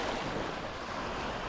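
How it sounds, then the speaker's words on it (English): Gentle surf washes steadily on a calm, windless bay beach at East Coast Bays during a surfcasting outing, a continuous soft hiss of small waves with no voices. "calm, no wind, just the sound of the waves"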